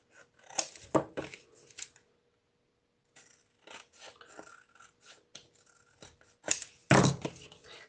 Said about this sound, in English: But first we have to trim.